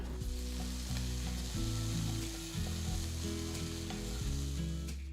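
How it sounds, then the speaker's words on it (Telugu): Chopped vegetables for fried rice sizzle steadily in a hot pan, a continuous loud frying hiss with occasional stirring scrapes throughout, no voices. "వీటన్నిటిని ఐదు నిమిషాలు వేయించాలి"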